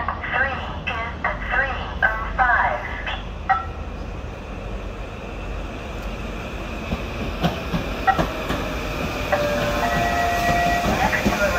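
A commuter train rolls into Bridgeport station with rumbling wheels, rail clatter and squeals, while platform announcements and voices sound over it.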